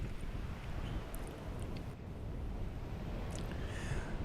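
Strong wind blows hard across the Big Island of Hawaii shoreline by a rough ocean, a steady, loud rushing roar that buffets the microphone without letting up.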